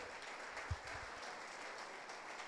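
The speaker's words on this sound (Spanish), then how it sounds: "yo quiero que le dé un aplauso al apóstol Pablo" Faint, distant applause from a church congregation honoring the apostle Paul during a sermon, a soft continuous wash of many hands clapping with one slightly stronger burst early on, no voices on top.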